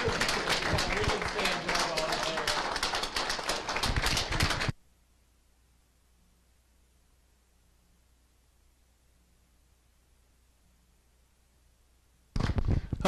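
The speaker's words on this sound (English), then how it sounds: "one more big round of applause for all of our volunteers" Audience applause for volunteers at an annual association meeting, a dense burst of clapping for several seconds before a long quiet gap, then clapping resumes briefly at the end.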